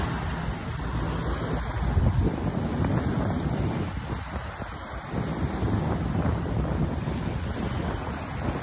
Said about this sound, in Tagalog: yung hampas ng alon, kumbaga dinadagsa naman po dito sa Dalampasigan po